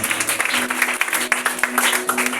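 A church congregation clapping together, a dense, steady patter of many hands that fills the room, with voices faintly underneath.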